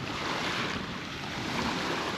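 Water on Flathead Lake, a soft continuous wash of small waves mixed with wind rush, steady and fairly faint with no voices.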